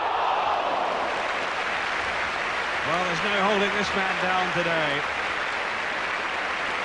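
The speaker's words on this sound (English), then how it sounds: "The crowd applaud the shot then from Glenn Hoddle" A 1980s Tottenham Hotspur football crowd applauds a shot from Glenn Hoddle: a dense, steady wash of clapping and crowd noise throughout, with someone commentator speaking briefly over it near the middle.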